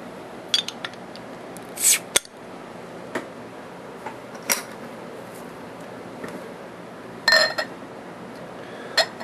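Opening a bottle of Hop Sun wheat beer (4.9%): a handful of sharp clicks and metallic clinks, one brighter hiss-like burst near the start and another later, close and fairly quiet with no talking.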